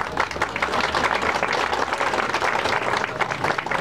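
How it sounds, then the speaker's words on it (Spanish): Loud, dense applause from the crowd at a presidential inauguration ceremony right after a symbolic ribbon cutting, with rapid overlapping claps sustained evenly throughout and a faint voice briefly audible underneath. "Vamos a ver ese fuerte aplauso."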